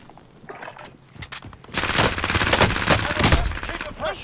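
Close, loud automatic gunfire in the shooter game Warzone, a quieter scattered shot or two, then a sustained rattling burst of rapid rounds filling the second half.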